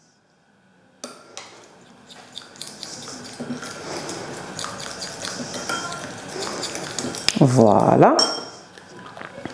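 A hair oil blend containing cannabis seed oil is stirred in a container, giving soft clinking and scraping that builds toward a brief swirl of liquid near the end, while someone talks over it.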